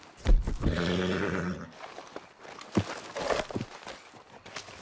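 A horse in the video game Red Dead Redemption 2 lets out a loud, drawn-out whinny, followed by a few snorts and scattered hoof sounds nearby.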